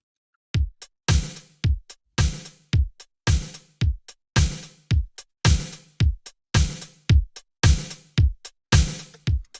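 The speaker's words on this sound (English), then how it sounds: "if you're using the Lindrum, it sounds sort of like this." A dry, unprocessed drum machine beat with punchy kicks and snappy snares in a steady, looping groove, played alone with no voices.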